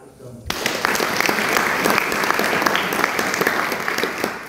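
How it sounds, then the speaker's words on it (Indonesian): Audience of students at an Islamic boarding school bursting into applause, a sudden loud wash of many hands clapping that holds steady and close. "Kita kasih aplaus dong"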